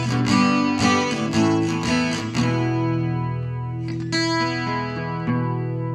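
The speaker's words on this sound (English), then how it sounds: "And then let's add on some reverb and chorus." Electric guitar chords and single notes ring out with lush reverb and a shimmering chorus effect, played alone and fairly loud.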